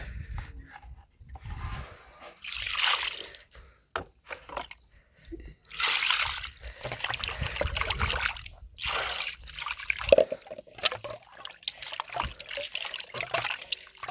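Water trickles and pours over washed pieces of gendi fish in a home kitchen, coming in several separate bursts of splashing with quieter dripping between them, close by.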